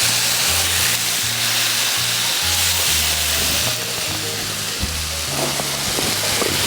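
Fillet steak sizzles steadily in a hot pan, a loud, continuous hiss and crackle with background music underneath.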